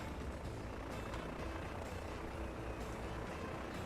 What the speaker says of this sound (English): Passenger aircraft.